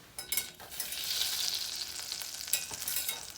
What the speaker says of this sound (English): we just want to let the butter melt